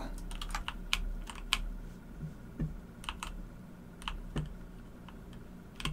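Computer keyboard keys are pressed in scattered single clicks and quick clusters while working on an Unreal Engine 4 game effect, close and fairly quiet over a low steady hum, with no talking.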